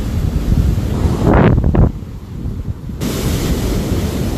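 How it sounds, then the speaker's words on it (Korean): Rough sea surf churns and roars at the shore as strong wind buffets the microphone with loud gusts before an approaching typhoon; the noise stays close and steady throughout, with no speech. "바다 파도가 장난이 아니에요 어 바람도 많이 불고"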